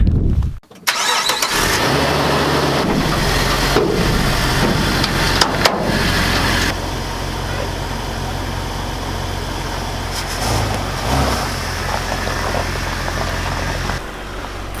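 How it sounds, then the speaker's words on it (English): A project Jeep Wrangler engine catches after a brief crank and then runs at a steady, fairly loud idle while being unloaded off a trailer. "let's go ahead and get the Jeep unloaded off the trailer"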